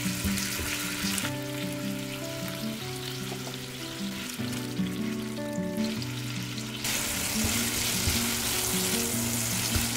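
Seasoned shrimp stir-fry in an oiled, preheated pan over medium heat, giving a continuous loud sizzle and crackle that swells near the end, over soft background music.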